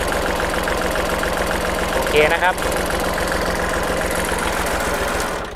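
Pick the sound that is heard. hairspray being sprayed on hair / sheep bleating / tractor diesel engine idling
tractor diesel engine idling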